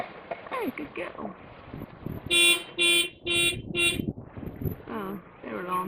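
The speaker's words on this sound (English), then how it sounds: "Oh, their alarm's going off," A car alarm going off nearby outdoors, sounding four loud, evenly spaced electronic honks in the middle, with wind noise and someone talking before and after.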